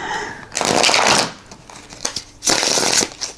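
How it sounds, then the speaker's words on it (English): Tarot cards are shuffled by hand in two quick bursts of riffling and sliding, close and crisp, separated by a short pause with light handling noises. "give a few shuffles here."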